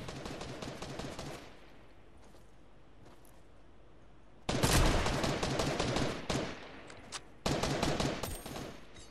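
Rapid gunfire bursts from Fortnite Winter Royale, with rattling automatic volleys that start and stop, a quieter stretch in the middle, and louder clustered shots later.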